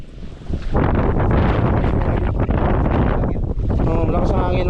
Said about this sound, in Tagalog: malakas ang hangin mga idol.